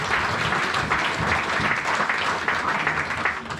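A church congregation applauding loudly to acclaim Jesus, dense sustained clapping throughout with faint voices and cheers mixed in.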